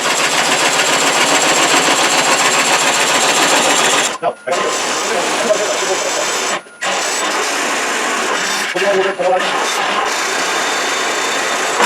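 Wood coring cutter carving into a dry walnut burl on a lathe, a steady loud grinding whir with a few brief dropouts as the cut pauses, and talk alongside.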